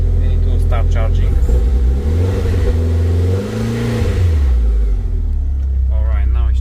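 A Mitsubishi Eclipse GSX engine runs loud and close, its idle rumble climbing as it is revved toward 3000 RPM, holding and then dropping back while a person talks over it.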